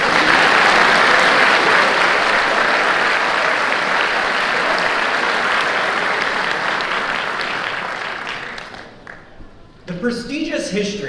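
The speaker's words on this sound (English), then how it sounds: "Give him a round of applause." Audience at a military deployment ceremony breaking into loud, sustained applause that gradually fades over several seconds, after which a voice begins speaking over the last scattered claps.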